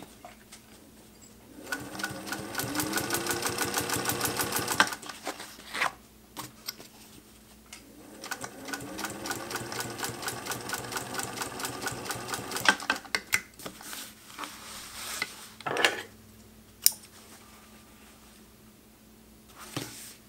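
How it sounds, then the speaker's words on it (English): A sewing machine stitches along a zipper in two long, fast bursts, with quiet clicks and handling noises between and after the runs. "I'm going to use the presser foot of the sewing machine as a guide"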